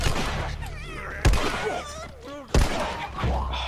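Two sharp gunshots in The Last of Us, about a second apart, each a loud punchy crack with a thudding low end, breaking through music and ambient game sound.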